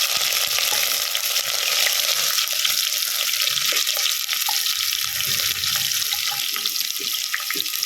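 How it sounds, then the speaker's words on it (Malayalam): Crushed ginger and garlic are stirred into a hot pan while cooking beef bones, giving a continuous bright sizzling hiss with faint scraping and stirring sounds underneath, close and even, with no talking. "ആ ചതച്ച് വെച്ചിരുന്ന വെളുത്തുള്ളി അത് ഇട്ട് കൊടുക്കാം ഇത് എല്ലാം കൂടി നമുക്കൊന്ന് ഇളക്കി ഇതാക്കാം"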